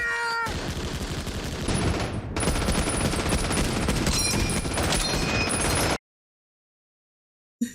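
Dense, loud bursts of gunfire and explosive rattling from a war film battle scene play continuously for several seconds, then cut abruptly to silence.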